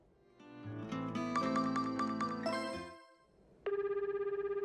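Telephone ring in the Tokimeki Memorial GS4 video game: a melodic chime tune plays, goes quiet for a moment, then a steady electronic ringing tone pulses at an even rate.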